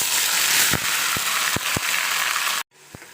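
Curry leaves, onion and tomato drop into hot oil with a loud, bright sizzle broken by a few sharp knocks, then the sound cuts off abruptly near the end.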